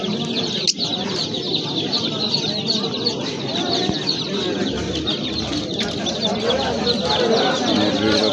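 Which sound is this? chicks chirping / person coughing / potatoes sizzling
chicks chirping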